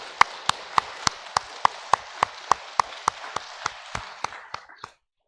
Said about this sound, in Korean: 잠시 일어나시면 우리 환영의 박수로 맞이하도록 하겠습니다.